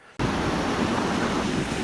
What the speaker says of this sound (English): If you can hear me over the sound of the noise, you can see the sluice is well over the top.